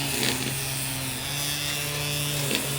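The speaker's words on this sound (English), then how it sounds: "The guy across the street decided to start weed whacking his lawn." A weed whacker trims a lawn across the street, a continuous buzzing drone at moderate distance that holds steady and swells slightly now and then, with no speech over it.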